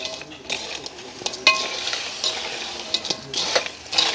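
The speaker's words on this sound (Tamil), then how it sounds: "நண்டை நாங்கள் சேர்த்துக்கொள்வோம். நல்ல வடிவாக அப்படியே கலந்து விடுவோம்." Crab pieces are stirred into onions frying in a pan, giving a steady sizzle with repeated scraping clinks of a spoon against the metal.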